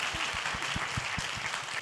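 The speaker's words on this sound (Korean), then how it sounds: "박수 주세요." A live audience at an education talk concert applauds, a bright, dense patter with a steady rhythmic thump running beneath it through the short burst.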